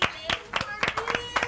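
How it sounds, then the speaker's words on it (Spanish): Several people clap on a Spanish-language TV show after a Cuban reggaeton artist's Guinness record, six or seven distinct, fairly sharp claps in an uneven rhythm, with faint voices underneath. "Un aplauso."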